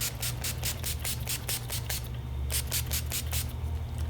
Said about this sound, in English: This one is the first base primer spray.